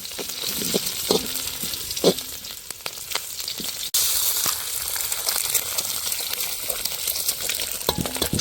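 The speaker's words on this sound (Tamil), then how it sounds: "கொஞ்ச நேரம் பொரிய விடுறோன்னு நாங்கள் வந்து கொஞ்சம் நேரம் வதங்குவோம்" Green chillies and ginger sauté in a pan for Jaffna-style kottu, giving a steady close sizzling hiss with scattered spatter clicks and a few stirring knocks over about eight seconds, no voices.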